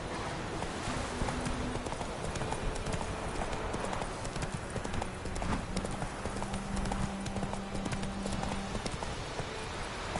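Hooves of the horse Roach pound in a quick, rolling gallop across open ground in The Witcher 3: Wild Hunt, a dense steady clatter under game ambience with a faint voice briefly present.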